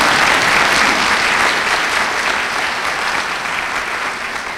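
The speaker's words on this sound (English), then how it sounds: "We should clap." Audience applause at an Orlando city commissioner's oath of office ceremony, steady dense clapping from a crowd sustained throughout, loud and close, with no speech over it.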